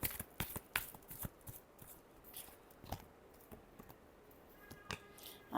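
Tarot cards being shuffled by hand in quick, close riffling bursts and flicks that come in irregular clusters, with a final louder flutter at the end.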